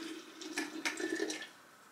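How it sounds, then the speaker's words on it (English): Tea trickles and splashes over a kitchen sink in a few soft, uneven bursts of running water, faint and close. "I just do this over the sink to pour the tea in"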